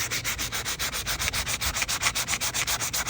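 Hand sanding of painted wood on a rocking chair with 120-grit paper, a fast rhythmic scratching of steady back-and-forth strokes, loud and close with no voices.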